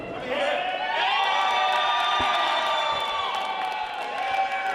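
A professional wrestling crowd in Springfield, Ohio roars and cheers for Dalton McKenzie, a loud, sustained wall of voices with whoops and shouts rising over it, steady for several seconds.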